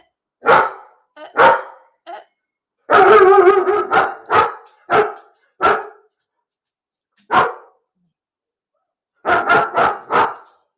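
A dog barks in repeated loud, close bursts, first in single barks, then a rapid volley, then scattered barks with pauses between them and a final cluster of four.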